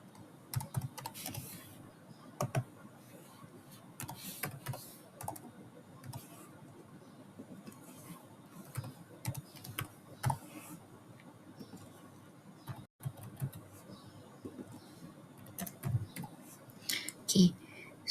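Rapid, uneven keystrokes on a computer keyboard while form fields are filled in, close and fairly quiet, with soft clicks spread through the whole stretch.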